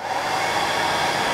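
A hair dryer blowing steadily on a CDC feather at a fly-tying bench, a close, continuous airy whoosh with no talking.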